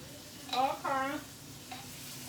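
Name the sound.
stir-frying garlic with a mini spatula for vegan fried rice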